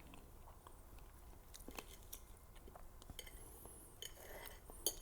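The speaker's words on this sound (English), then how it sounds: "The nice kind of crunchiness of the kombu together with the tenderness of the fish." Eating confit salmon trout with crunchy kombu: quiet close-up bites and chewing with soft crunches, plus faint clinks of cutlery against a plate.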